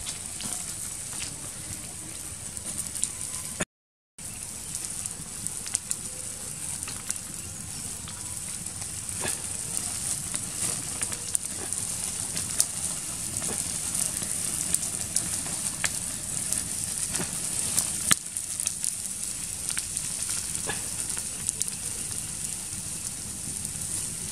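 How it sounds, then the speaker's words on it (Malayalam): Grilled chicken cooking over a village fire, a steady crackling sizzle that runs without a break at close range, with a brief dropout early on and no talk. "നമ്മുടെ ഗ്രില്ലഡ് ചിക്കൻ നന്നായിട്ട് വെന്ത് പൊരിഞ്ഞ് വന്നിട്ടുണ്ട്."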